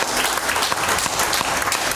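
A church congregation claps for the Lord during a worship service, producing a loud, dense and continuous burst of many hands clapping that fills the room without any talk.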